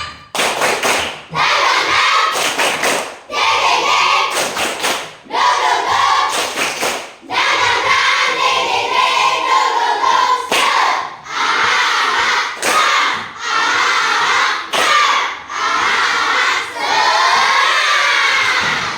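A group in a classroom does the rhythmic 'tepuk semangat' spirit clap: loud bursts of patterned clapping and shouting, split by short silent breaks, repeating many times.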